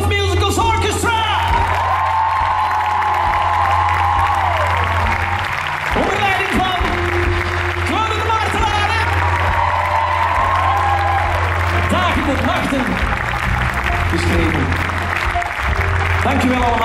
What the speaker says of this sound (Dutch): geef ze een ongelooflijk applaus